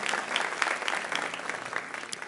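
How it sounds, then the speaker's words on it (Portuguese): Church congregation applauding during a sermon, a dense, continuous wash of many hands clapping, moderately loud and sustained without distinct individual claps. "Aplauda ao Senhor."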